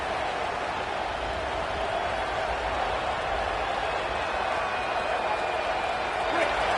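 A stadium crowd roars steadily in the NCAA football video game during a big third down in the red zone, a continuous wash of cheering under play-by-play commentary.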